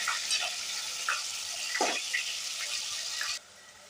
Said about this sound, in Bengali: রসুনটা আমি ভালো করে বাদামি কালার করে ভেজে নেব।